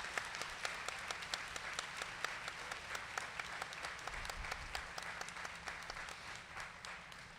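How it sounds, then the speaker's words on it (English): At the RCC commencement ceremony, a crowd applauds the speaker's dad with steady, crisp clapping that sounds somewhat distant and soft, continuing evenly throughout. "Can we give him a round of applause"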